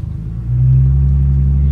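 A Mustang idles with its muffler removed, a deep, throaty exhaust rumble swelling slightly louder after a moment, close by and steady.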